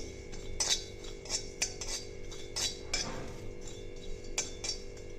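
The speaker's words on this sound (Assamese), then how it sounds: "এইধৰণে লৰাই দিম, অকণমান ফুটক জিৰাখিনি। এয়া চাওক, জিৰাখিনি পটপটকৈ ফুটিছে।" Cumin seeds splutter in a pan without oil while being stirred, giving sparse, sharp clicks and metallic clinks of the utensil over a quiet, low hiss. No speech.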